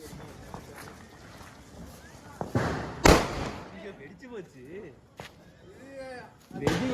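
A sharp Diwali firecracker bang cracks out amid background chatter and outdoor noise, with a few smaller pops before and after.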